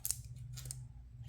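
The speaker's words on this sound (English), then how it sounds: "I'm going to use my scissors to take that off." Scissors snip through paper during a stamping craft project, giving a few quiet, crisp cuts spaced apart in a faint, close recording.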